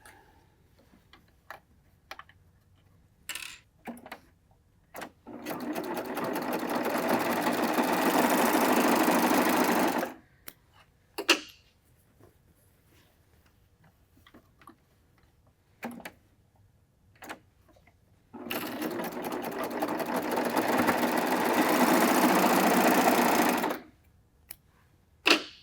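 A serger runs in two long bursts while stitching a fabric wine bag, each a loud, steady mechanical whir lasting about five seconds, separated by quiet handling clicks and taps of the fabric and machine.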